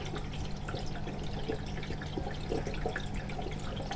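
A moss plant in a pot is watered from the bottom. There is a soft, steady trickle and some light drips of water over a constant low background hum, with no talk.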